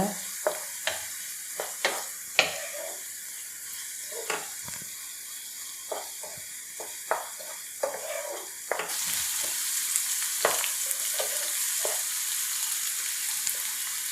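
Onion, ginger and garlic sautéing in a pan, a constant sizzle broken by frequent sharp scraping and clinking of a spoon, growing louder and brighter near the end, with no voices.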